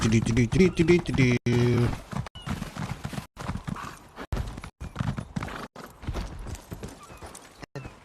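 Hooves clip-clop steadily as a horse is ridden through the countryside in a video game, a quick even gallop mixed with a whinny early on, while a person talks over it throughout.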